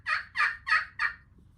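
A wild turkey gobbler in spring gives four quick, evenly spaced gobbles, a rapid rattling burst that trails off, heard clearly at moderate distance over a quiet outdoor background.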